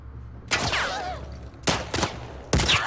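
Gunfire in The Last of Us Part II comes in three sharp bursts of loud shots against zombies, with a low rumbling backdrop between the bursts.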